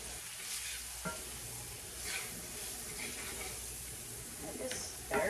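Leftover vegetables stirred in a hot pan on medium-high heat, giving a steady soft sizzle with occasional scrapes and clinks of the utensil, close up.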